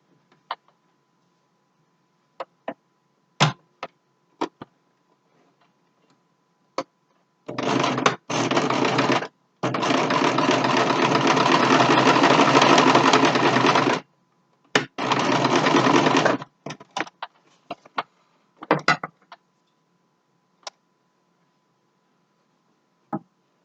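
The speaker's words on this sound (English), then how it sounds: "Now I'm going to leave a space, and I'm going to sew the other half down." A sewing machine stitching a homemade fabric mask runs in three loud, close bursts, the longest lasting several seconds, with scattered clicks and handling taps between and after them.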